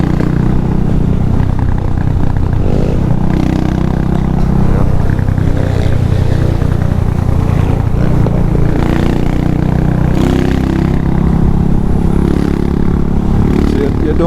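A motorcycle carrying a pillion passenger on the road, its engine droning steadily and loudly close by with constant rumble and wind noise and no breaks.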